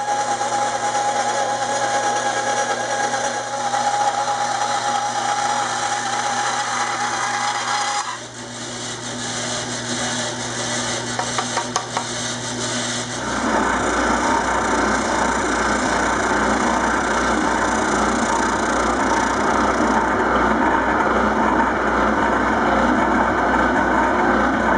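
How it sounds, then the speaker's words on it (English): A bandsaw cuts pickguard plastic with a steady mechanical whine and hum. Partway through, an oscillating spindle sander takes over with a louder, rougher, grinding rush that continues to the end. No one speaks. "now we're going to bandsaw it out and shape it on an oscillating spindle sander"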